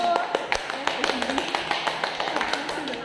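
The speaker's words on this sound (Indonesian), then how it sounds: "Beri tepuk tangan dulu untuk kelompok 1." Students in a classroom clap for a group presentation with light, scattered claps that come as separate sharp taps rather than a full round, with voices nearby.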